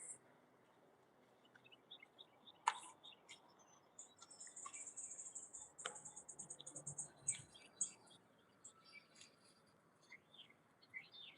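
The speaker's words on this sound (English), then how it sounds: "birds chirping." Birds chirp in a garden beside an elephant ear plant, scattered faint calls and brief trills against a quiet outdoor background.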